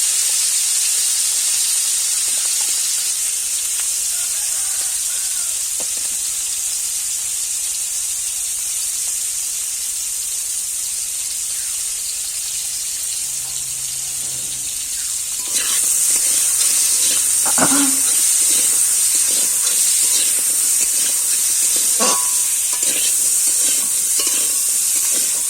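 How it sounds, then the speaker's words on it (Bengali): Drumsticks and tomato fry with salt and turmeric in hot oil, giving a steady loud sizzle that swells partway through, with occasional scraping and stirring knocks. "প্রথমে সজনে আর টমেটোটা সামান্য লবণ হলুদ দিয়ে ভেজে নেব।"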